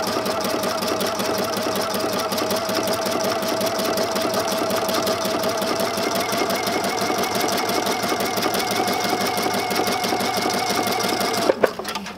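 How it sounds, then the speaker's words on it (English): A sewing machine runs continuously while a ribbon foot attaches decorative trim with a zigzag stitch, making a loud, rapid, even mechanical chatter close up that stops abruptly near the end. "so if I'm sewing a little crooked"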